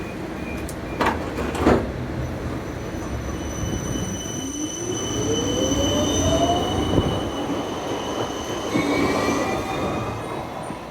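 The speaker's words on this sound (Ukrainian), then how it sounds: "Дуже м'якенький трамвай, і дуже комфортно, дуже прохолодно там було їхати." A tram in Budapest rumbles along its rails with a rising wheel squeal and a couple of sharp clanks, loud and continuous from inside the car.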